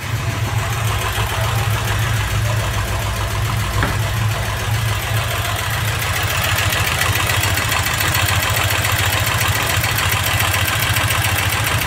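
A 1977 Ford Corcel engine idles just after starting, loud and close, with a steady low rumbling beat that holds even throughout with no throttle and no voices.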